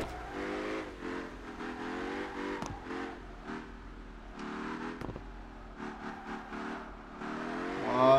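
A BMW drift car in the CarX Drift game revs its engine in repeated bursts, rising and falling in pitch as the throttle is worked, moderately quiet, with a louder surge at the end.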